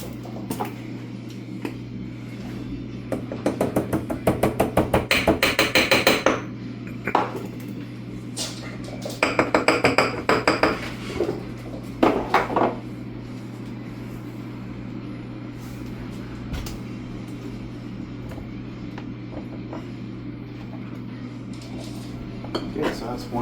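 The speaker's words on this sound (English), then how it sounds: "Dumping cucumbers in here" Cucumbers tumbling into glass pickling jars, with two loud clattering bursts of hard knocking and clinking, each a few seconds long, over a steady low background hum.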